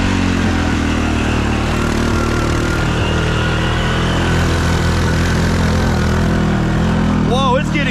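Honda 300 ATV engine droning steadily and loudly up close as it pushes through super deep mud, a constant low rumble throughout, with a brief rising whine or call near the end.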